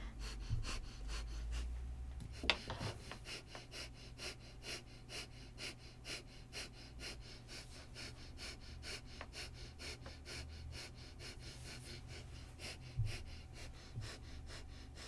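Breath of fire during a Kundalini yoga session: rapid, rhythmic, forceful nasal breaths pulse quickly and evenly throughout, close and fairly quiet, with no talking.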